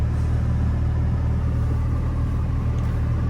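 A 3.7-litre Acura TL with a six-speed swap, J-pipe and Comptech exhaust idles after a cold start, giving a steady, deep low rumble close by with no talk over it.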